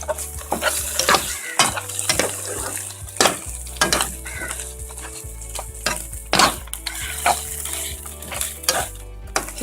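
Lauki halwa with condensed milk is stirred in a pan, a spoon scraping and knocking against the metal in repeated bursts over a soft continuous sizzle, close and clear.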